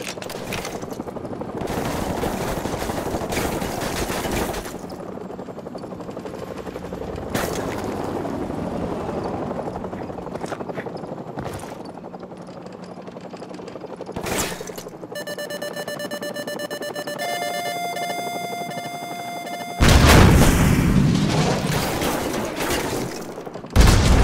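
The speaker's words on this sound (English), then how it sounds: "grab another stinger and fire again" Call of Duty 4 Modern Warfare combat with a Stinger missile launcher, a steady electronic lock-on tone beeping and holding before a loud whooshing launch burst, amid rumbling background battle noise and scattered gunfire.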